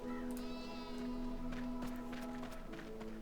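Black sheep bleat in the RuneScape game, a few wavering cries rising over a steady low game hum, with faint footsteps and ambient tones underneath.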